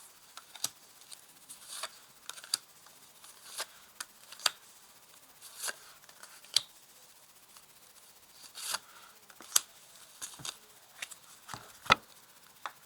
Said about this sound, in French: je vais quand même ajouter encore des cartes dessous